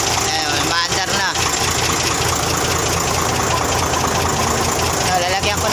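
A rebuilt Fuso 6D15 turbo diesel engine idles close by with a loud, steady, knocking rumble, and a voice briefly breaks in over the running engine.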